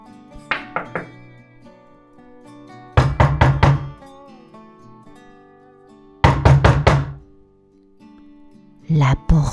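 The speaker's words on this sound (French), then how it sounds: "Les enfants frappèrent fort, très fort." Sharp knocks land in quick bursts of four or five hard raps, with pauses between groups, as children pound loudly on a house door; the knocks are crisp and close amid quiet narration.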